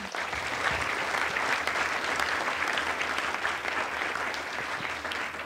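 Audience in a Paris cinema club applauding mathematician Sylvie Benzoni, steady broadband clapping throughout, fairly distant and soft, with no voices over it.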